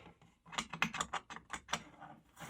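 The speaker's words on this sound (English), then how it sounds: "you should use something like this, which is a tape cutter, and basically put the tapes in the middle of the blade" A tape cutter's blade slices through masking tape during guitar fret work, giving a quick run of about a dozen crisp, close clicks and snips over roughly two seconds.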